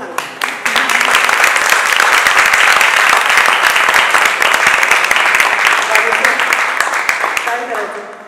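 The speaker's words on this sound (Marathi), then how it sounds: "तुम्ही टाळ्या वाजवून सांगा" Applause from a crowd at a youth tabla concert by a Nashik academy at a Brahmotsav festival, swelling quickly into loud, sustained clapping that tapers slightly toward the end.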